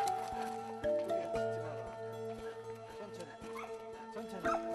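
A huge Caucasian Ovcharka, a bear-hunting guard breed with a history of aggression, barks in sharp repeated bursts at another dog during a walk, fairly close, with people talking around it.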